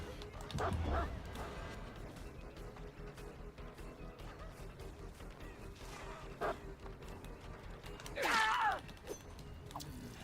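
A dog in Dead by Daylight gives a few scattered barks and yips, one near the start and a louder bark later, with low game ambience between them.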